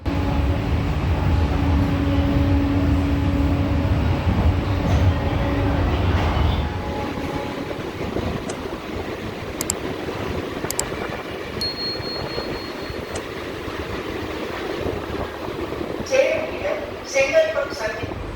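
An air-conditioned suburban electric local train from Chennai Beach to Chengalpattu rumbles steadily with a loud low drone that fades midway, leaving quieter clatter and rail noise, plus a few brief squeals and clicks.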